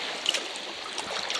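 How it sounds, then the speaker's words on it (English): Little sea waves lap gently near a kayak during a calm paddle, making soft, close watery splashes and trickles in a quiet setting. "little waves coming in."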